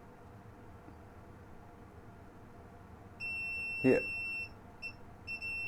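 A multimeter's continuity tester gives a steady high-pitched electronic beep while probing a circuit board, sounding for about a second, breaking off, then returning in short bursts. A quiet room hum sits underneath, and someone says a single word.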